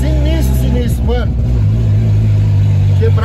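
Turbocharged 400-horsepower VW Gol accelerating, a loud mid-pitched engine drone rising in pitch under excited talking from occupants.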